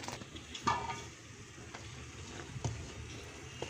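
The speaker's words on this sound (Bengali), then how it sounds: "তো এইভাবে নেড়ে নেড়ে প্রায় 25 মিনিট জাল দিব দুধটা।" Cow's milk simmering on low heat in a pot while being stirred, with faint scraping and clinking of a spoon over a soft, steady bubbling background, no talk.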